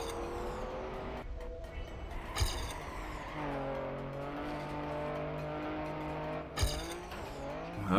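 The Stadium Car in a racing game drives with a steady, loud engine drone that rises in pitch as it accelerates, punctuated by two sharp impacts or tire hits.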